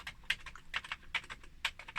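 Typing on the keyboard of a Sharp MZ-700, an old wedge-shaped computer with tactile key switches, gives quick, uneven clicks and clacks. The close, crisp keystrokes sound alone, with no talk.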